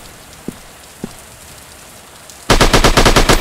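Automatic gunfire in a sniper shooting video game: two faint isolated pops, then a loud, sustained burst of fast, evenly spaced shots.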